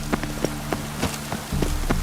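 Rain patters steadily on a surface in The Witcher 3: Wild Hunt, with scattered louder drops and a low hum underneath.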